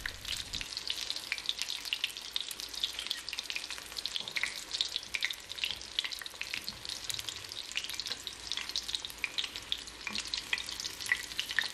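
Kadınbudu köfte, Turkish meatballs, sizzle and spatter steadily in a frying pan, with a dense, continuous crackle of hot oil heard up close and no talking.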